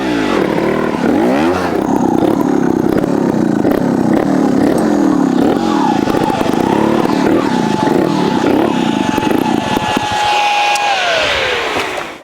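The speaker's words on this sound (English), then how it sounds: "When you ride the Vertigo, you know that it's never going to overheat because the fan reminds you 24/7." Steady whirring of the cooling fan on a 2024/25 Vertigo RS2 trial motorcycle, running continuously beside the idling engine, close and loud, with a high tone that holds and then drops near the end.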